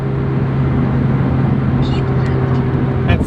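Honda S2000 engine droning steadily in 6th gear at over 4,000 RPM while cruising at about 60 mph, a loud continuous hum with a low engine tone throughout, under faint talk.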